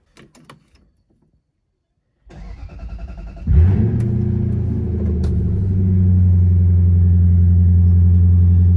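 A Lexus SC400 engine cranks and starts after a few faint clicks and a quiet pause, then settles into a steady, loud idle with a low rumble that holds to the end.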